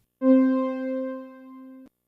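One synthesizer note made in Ableton holds for about a second and a half, a bright harmonic tone that swells briefly, stays steady, then cuts off cleanly, alone with no voice.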